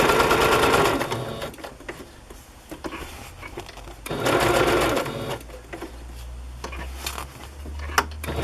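Sewing machine running a straight stitch through fabric for a journal cover, with steady whirring bursts that stop and restart, loud and close.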